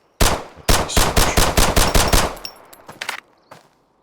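Full-auto gunfire in the video game Road to Vostok: a loud, close burst of rapid shots, a short pause, then a longer sustained string that tapers into a few scattered final rounds and echo.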